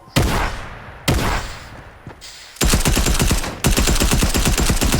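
Gunfire in Fortnite striking a player-built wall: bursts of rapid shots, two short volleys, then sustained loud automatic fire.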